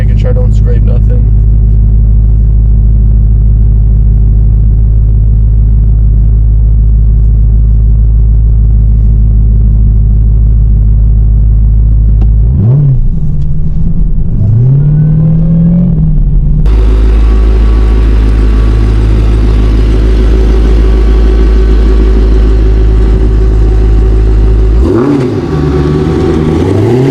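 1025 hp Dodge Demon 170 rumbling as it pulls out of a driveway, a deep, loud, continuous idle with brief revving swells, close by, while someone talks.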